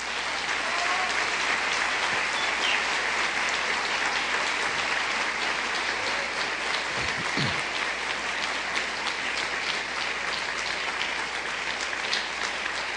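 A church congregation claps hands steadily and loudly throughout, a dense sustained wash of applause from many people with no pause or speech.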